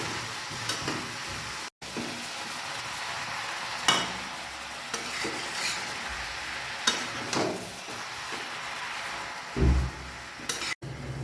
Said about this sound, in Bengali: ভালো করে এবার মশলার সঙ্গে বাঁধাকপিটা মিক্স করবো